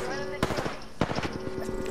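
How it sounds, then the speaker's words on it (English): Rapid bursts of automatic gunfire in a battle-royale video game, loud sharp cracks in quick clusters with a steady tone humming underneath and players talking over the shooting. "Rusty, you're getting shot from the back."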